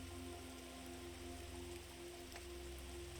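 Steady rainfall patters on a surface at low volume, a soft even hiss of drops with no voices, forming a calm continuous backdrop.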